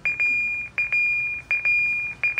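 A Denso horn with its connector removed gives a repeated electronic buzzer tone, steady beeps in quick bursts separated by short gaps.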